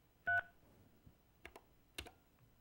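Telephone keypad tones: one clear, short beep followed by several fainter clicks and blips as buttons are pressed on a phone that will not hang up, quiet and isolated.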